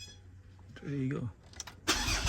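A Ford Ranger 3.2L automatic diesel cranks briefly with a whirring starter, then catches and settles into a close, rough idle, with a short voice heard just before it fires.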